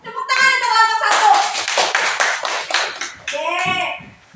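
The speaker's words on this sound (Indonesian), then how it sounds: "Tepuk tangan untuk kelompok 1." A primary school class claps for a student group, with steady rhythmic clapping mixed under children's voices and an adult speaking in the room.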